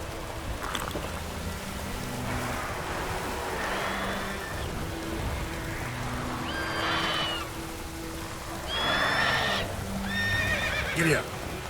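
Roach, the horse in The Witcher 3, whinnies several times over steady hooves and a rainy outdoor backdrop, while someone speaks intermittently.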